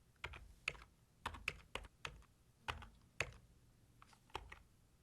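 Typing on a computer keyboard, about a dozen separate crisp key clicks in an uneven rhythm, close and fairly quiet against a soft background hum.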